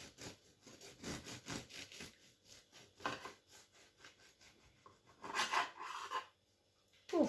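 Knife sawing through a loaf of olive bread, with quiet rhythmic rasping strokes and a crustier crackle near the end.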